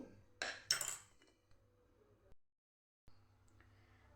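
Knife slicing steamed vegetable muthiya on a board gives a couple of quiet clinking cuts at first, then sparse faint taps and a short stretch of silence.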